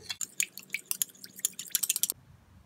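Homemade liquid hand wash ingredients, with vitamin E oil, are mixed together with flaxseed gel, giving soft wet squelches and quick sticky clicks in an irregular run, close and fairly quiet, stopping abruptly near the end.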